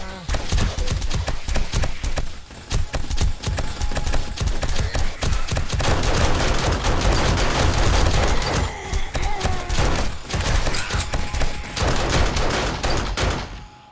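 Pistol gunfire in the video game Darkness Falls, with dense, rapid shots cracking loudly and almost continuously over roughly fourteen seconds of busy game sound.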